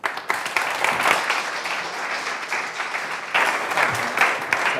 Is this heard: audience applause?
yes